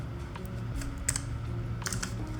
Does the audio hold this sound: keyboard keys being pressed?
yes